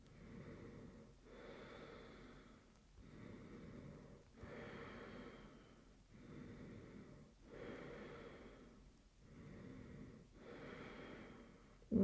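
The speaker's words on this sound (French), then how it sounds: "qui va te permettre d'entendre davantage les sons de ta respiration." Ujjayi yoga breathing through a constricted throat, slow audible inhales and exhales in a steady rhythm of about ten breath strokes, each a soft hissing rush, close and fairly quiet with no talking.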